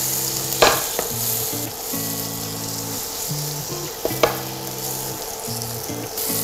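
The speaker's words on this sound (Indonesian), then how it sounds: "Diaduk, aduk terus sampai smoked beefnya itu tercium wangi" Mushrooms and smoked beef fry in a pan, a steady close sizzle broken by two sharp scrapes of stirring, with no voices.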